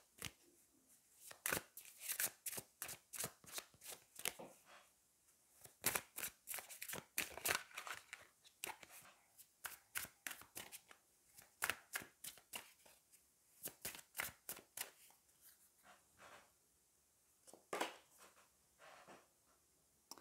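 Tarot or oracle cards shuffled by hand, a long run of quick crisp slaps and riffles in uneven rhythm, close and clear with no talking.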